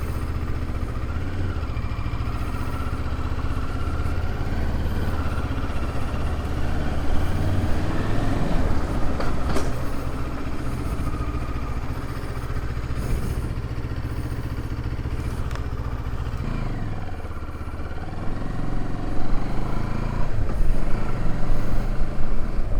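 Motorcycle ridden along a road in Portugal, its engine droning steadily up close with rising and falling revs and constant wind rush, swelling louder near the end as it accelerates.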